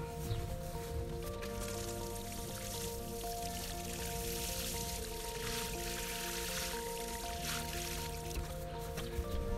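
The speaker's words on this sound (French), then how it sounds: "quand on plante, quand on sème, on arrose" Water pours steadily from a watering can onto the soil around freshly planted flowers, a continuous soft splashing that runs without break and without talk.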